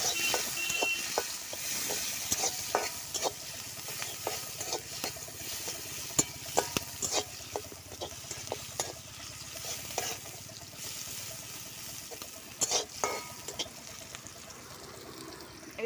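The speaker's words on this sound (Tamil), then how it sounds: "இப்போ பார்த்தீங்கன்னா வெங்காயம் ஓரளவுக்கு நல்லா வதங்கிடுச்சு." Onions sautéing in a frying pan for an egg curry, a steady sizzle with repeated scraping stir strokes throughout, close and moderately loud with no talking.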